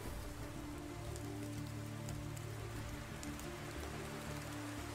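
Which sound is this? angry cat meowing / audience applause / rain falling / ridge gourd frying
rain falling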